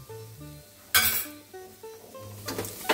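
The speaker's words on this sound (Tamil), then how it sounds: "நல்லா வதக்கிக்கலாம்." Raw banana podimas being sautéed in a pan, with a few scraping clinks and metal-on-pan knocks from stirring over a faint background, set against steady musical tones.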